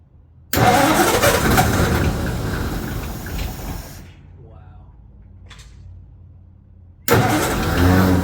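A 1936 Ford flathead V8, sitting unused for six years and fitted with electronic ignition, cranks and fires up loudly, settles into a rough idle, then cuts and roars again, with people talking between the bursts.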